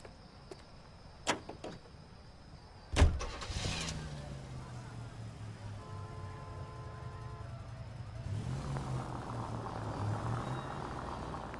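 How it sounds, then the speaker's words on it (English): In the video game L.A. Noire, sharp door thumps give way to a car engine starting and settling into a low, steady idle and drive, fairly faint, with a brief rise near the end. "Nice car, Roy."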